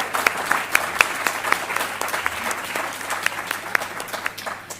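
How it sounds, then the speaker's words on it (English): Sustained audience applause fills a hall at the 2025 New South Wales Australian of the Year awards ceremony, steady dense clapping with a few sharper claps standing out, heard alone without talk. "A round of applause for these incredibly important members of our community."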